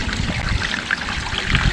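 Water flows continuously, with a steady trickling and rushing wash heard up close at a tilapia fishing spot, with no voices and no pauses.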